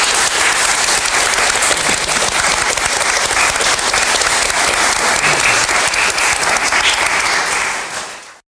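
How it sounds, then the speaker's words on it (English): Loud, sustained audience applause and cheering fill the space at a community mural restoration event in Millfield, Peterborough, a dense wash of clapping that carries on steadily before tapering off at the end. "can I give all of these a massive round of applause"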